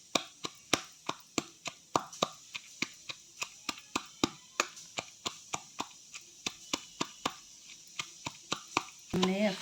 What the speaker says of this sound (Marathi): आता याला कुटून घेऊ. छान असं कुटून घ्यायचं भांड्यामध्ये.